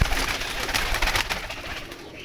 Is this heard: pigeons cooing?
yes